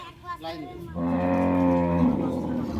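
A cow at a cattle market in Chandina, Cumilla, lets out one long, loud, close moo that starts about a third of the way in and holds to the end, with quieter bovine grunts before it.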